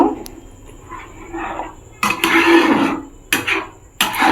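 Cardamom, cashew and batter for mango patishapta are stirred in a bowl, giving scraping, clinking utensil strokes in irregular bursts, loudest and busiest in the second half, close by with no voices.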